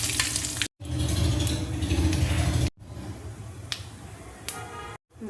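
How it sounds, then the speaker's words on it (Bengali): Dried red chillies and nigella seeds tempering in hot oil in a kadai, a close crackling sizzle with sharp pops, broken by brief silent cuts. "শুকনো লঙ্কা দেখো ফোড়ন দিয়ে দিচ্ছি, কালো জিরে দেখো দিয়ে দিচ্ছি"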